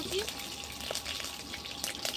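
Chopped garlic dropped into hot oil in a pan on a clay stove for a lentil, potato and egg dish makes a continuous close sizzle with scattered crackles. No voices are heard.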